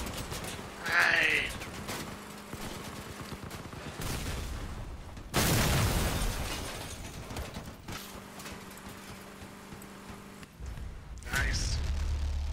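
Vehicle combat in the video game Crossout brings bursts of gunfire and explosive blasts, with a loud roaring eruption partway through and mechanical rumbling underneath, while a voice talks at times.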